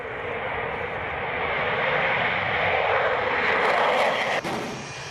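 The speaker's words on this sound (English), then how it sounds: "pilots prepared their aircraft at Saint Dizier airfield before heading to join the coalition" A military aircraft's engine roars steadily at Saint Dizier airfield, a loud sustained drone that builds slightly in intensity before easing off.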